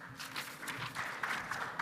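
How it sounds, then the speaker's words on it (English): An audience at a business presentation on water reconditioning gives a warm round of applause for a speaker coming to the stage, a brief, moderately loud burst of scattered clapping. "Please welcome to the stage with a warm round of applause BIOIONIX VP of Sales, Carl Jensen."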